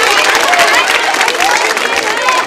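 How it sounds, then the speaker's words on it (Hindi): An audience at a Holi quiz show at a girls' B.Ed college claps loudly for the quiz contestants, a dense, continuous burst of applause mixed with crowd noise. "तालियां जोरों से बजाइए इन सभी के लिए"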